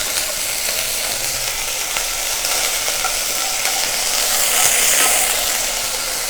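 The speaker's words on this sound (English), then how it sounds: "As soon as you have the hot oil in there, and I think the recipe in there will serve 4 people. I have just put a little bit of curry paste" Curry paste sizzles loudly in hot oil, giving a dense, continuous crackling hiss that stays close and steady, with no voices over it.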